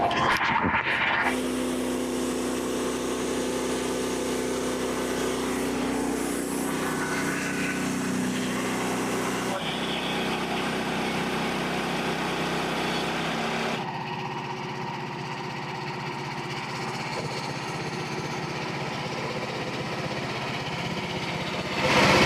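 A portable sawmill engine drones steadily while the blade cuts through a log, a loud continuous run that shifts pitch and load partway through, with no talk over it.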